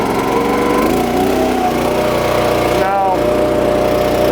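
Gas engine of a TimberOX Summit log splitter warming up, a loud steady buzzing drone close by that holds constant throughout, a speaker briefly talking over it.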